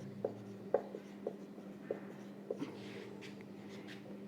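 Chalk or marker writing on a classroom board during a Class 10 maths lesson, with about six short separate strokes spaced evenly, quiet against a steady background hum.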